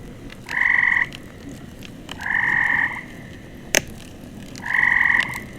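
Frogs croak in a loud, close downloaded sound effect: three sustained buzzing calls evenly spaced against a faint noisy background, with a brief click between the second and third.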